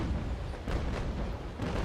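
Naval Action cannonade fire striking a brig's masts, a series of dull distant booms and thuds rolling over a continuous low rumble of sea battle.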